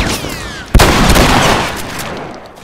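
A loud gunshot in The Last of Us Part II cracks out close and heavy, then trails into a long rumbling wash of echo and noise, with no talking over it.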